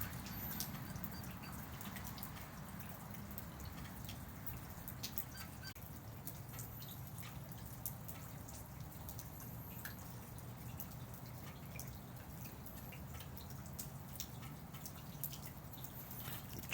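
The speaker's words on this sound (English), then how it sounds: "just out here enjoying the rain." Steady rain dripping outdoors in a backyard, a continuous soft patter of drops with occasional sharper ticks, fairly quiet and even throughout with no talking.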